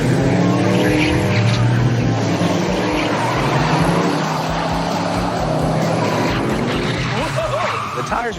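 A De Tomaso Pantera drives hard with old tires squealing and skidding through sustained engine roar, loud and close throughout, with pitch sweeps near the end and people talking over it.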